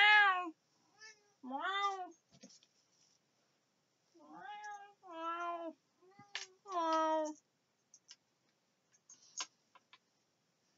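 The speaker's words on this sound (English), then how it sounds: "He's a noisy kitty." A small cat gives a series of loud, drawn-out meows close by, each rising and falling, with short quiet gaps between them and a faint tick or two near the end. A person speaks briefly between the meows.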